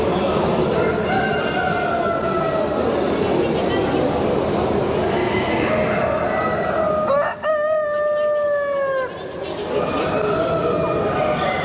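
Sumatra roosters crow repeatedly at a busy poultry exhibition in Bucharest, their long drawn-out calls rising over constant crowd chatter and clucking, with one loud, close crow near the middle.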